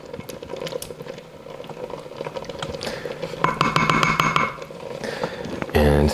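Gray salt stirred into a simmering sauce: a steady bubbling hiss with soft spoon scrapes and taps, growing busier midway and ending in a short burst of louder clatter.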